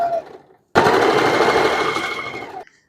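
A sewing machine stitches fabric for a cat and dog doll, one loud continuous burst of whirring stitching about two seconds long, starting abruptly after a moment of quiet.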